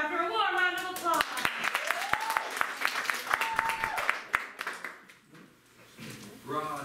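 A warm round of applause from an improv comedy audience, scattered sharp claps standing out over talk, thinning out and fading near the end.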